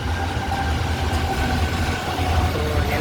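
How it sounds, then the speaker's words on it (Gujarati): A railway train rolls steadily past or pulls in nearby, a continuous loud rumble of wagons with faint rhythmic clatter and no voices. "રેલગાડી આવી જુઓ"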